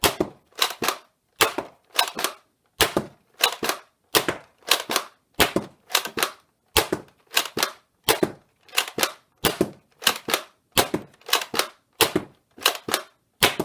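A Nerf Roundhouse blaster fires foam darts in a long regular series of sharp snapping shots, about two per second, close and clear with quiet gaps between them and no voices.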